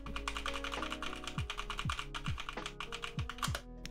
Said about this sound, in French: je spam un peu mes touches